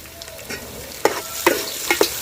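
Tomatoes and onions frying in a pan for a ridge gourd curry, a low steady sizzle broken by a few sharp scraping stirs of a spoon against the pan, close and clear with no voices.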